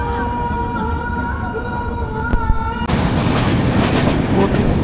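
Train running past Saidabad railway station, with a loud steady rumble and a long tonal horn or wail that gives way to a sudden burst of louder rushing track noise.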